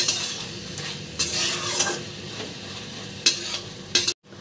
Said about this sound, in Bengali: কভার আমি খোলি নেলে এবে আমি ছতু ঘাঁটি নেবা ভালোভাবে।